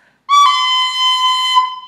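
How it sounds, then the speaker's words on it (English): A tin whistle in the lower octave plays a short C dropping into a long sustained B, a clear, bright tone held alone for over a second. "I want you to try playing a short C and a long B."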